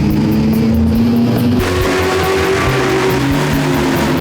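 A car engine roars loudly on a dynamometer, revving hard with a rising tone that steps through a gear change midway, close and continuous, with no talking.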